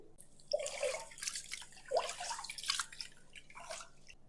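Rice being rinsed and drained in water, soft close splashing and trickling in uneven bursts with quiet drips between, all faint and without voices.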